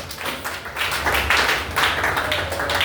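Congregation clapping together during a healing prayer at an evangelical church service, a dense continuous wash of many hands filling the room, steady and fairly loud with no pause.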